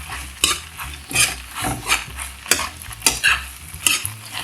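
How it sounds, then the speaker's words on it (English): Bacon and roasted garlic are stirred in a hot frying pan, giving a rhythmic series of scraping strokes over a steady sizzle, close and loud. "I'm gonna drop the bacon and the garlic, roasted garlic that I left behind"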